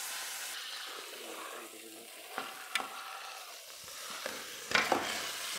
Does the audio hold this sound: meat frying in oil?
yes